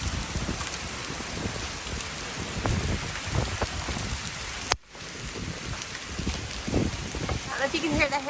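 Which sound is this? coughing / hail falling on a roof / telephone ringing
hail falling on a roof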